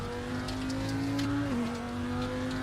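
A race car engine in the sim racing game RaceRoom holds a steady, droning tone with a brief dip as the gears shift, sounding continuous and fairly clean with no one talking.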